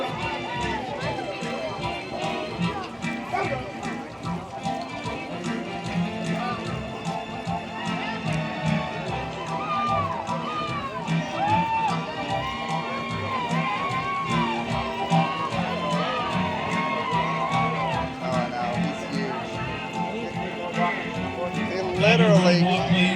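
Gaited Big Lick show horses move around an arena in a steady hoof rhythm beneath organ music, an announcer and a cheering crowd, with the hoofbeats only partly distinct under the busy mix.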